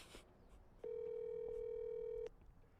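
A single long, steady electronic telephone tone sounds for about a second and a half, loud and clean, with faint room noise before and after.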